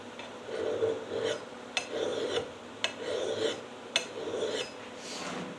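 A metal file rasps across the edge of an axe blade during sharpening: about five steady, even strokes, each a gritty scrape with a sharp click at the turn, heard close and alone.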